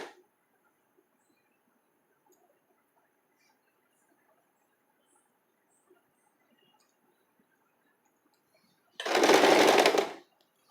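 After a long near-silence, an electric sewing machine stitching a cami top bursts into one loud, fast run of about a second before stopping.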